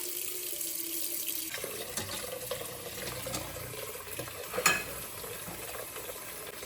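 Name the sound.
pot filling with water from a tap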